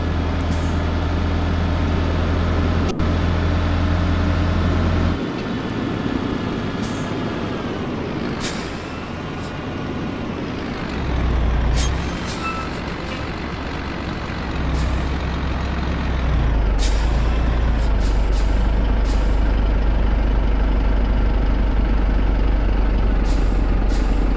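A Mercedes New Actros truck engine in the video game Grand Truck Simulator 2 drones steadily and loudly throughout, its low rumble dipping and surging as gears and speed change, with brief hisses and clicks over it and no talk.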